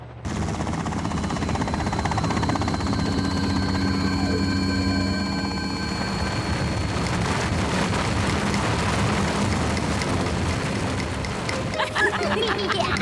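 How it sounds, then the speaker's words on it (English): A cartoon helicopter drones on as a continuous, heavy rotor roar, loud and steady throughout, with a rattling, chopping texture and a brief jolt near the end. "Oh no! The chopper's gonna cause it."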